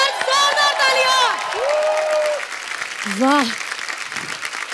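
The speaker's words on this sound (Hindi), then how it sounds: "एक बार जोरदार तालियां" Studio audience on a Hindi comedy talk show claps and cheers under excited speech, with whoops from the crowd and a loud burst of applause that fades, then swells again briefly near the end.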